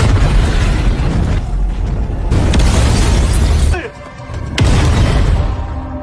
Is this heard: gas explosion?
yes